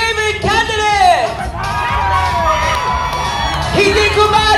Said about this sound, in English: Cheer for your most favorite candidate!